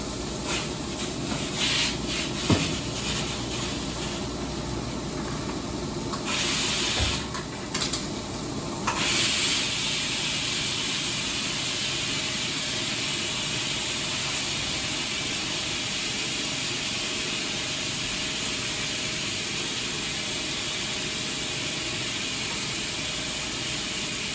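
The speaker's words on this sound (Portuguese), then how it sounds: "vou desligar o fogo, tirar a pressão da panela pra gente acrescentar as batatas" Pressure cooker releasing steam after cooking, a steady loud hiss that runs continuously with brief clatters of handling early on, then settles into an even, sustained jet of venting steam.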